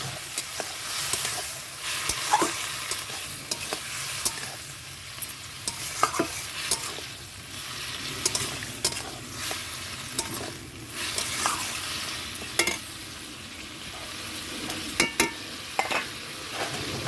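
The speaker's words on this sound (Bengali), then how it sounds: "আলুটা ভেজে নিচ্ছি এঁচোড়ের জন্য" Steady frying sizzle of potatoes in a pan, close and continuous, punctuated by occasional scraping clicks of stirring.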